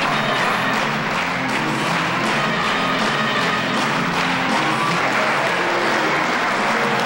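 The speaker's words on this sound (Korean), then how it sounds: "공연이 끝나자 아낌없는 박수갈채가 쏟아졌다" Dense, sustained applause and cheering from an audience after a synchronized swimming performance, a loud, even roar of clapping filling the whole stretch.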